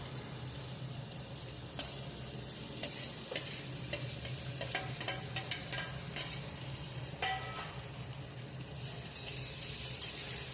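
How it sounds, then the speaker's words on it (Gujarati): Potatoes tipped into sautéed tomatoes in a pan for a Shivratri special dish, sizzling steadily in the oil with repeated scraping stir strokes and light utensil clicks throughout, close and unaccompanied by talk. "ટમેટાં સતળાઈ જાય એટલે તેની અંદર આપણે બટેકા ઉમેરી દઈશું."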